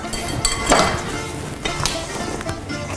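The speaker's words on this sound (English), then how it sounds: "And we're going to give that a stir" A spoon stirs and folds apple cake batter in a bowl, giving soft wet scrapes and a few light clinks against the bowl over a few seconds, with no talking.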